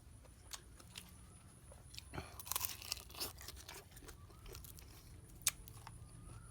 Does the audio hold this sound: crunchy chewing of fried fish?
yes